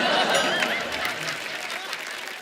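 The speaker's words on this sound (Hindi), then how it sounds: "आप सबकी जोरदार तालियों के बीच" Studio audience applause on The Kapil Sharma Show, a broad, moderately loud wash of clapping that gradually eases off, with some voices blended in.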